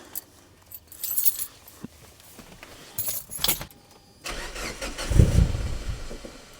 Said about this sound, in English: Let's see how this cold start is this morning.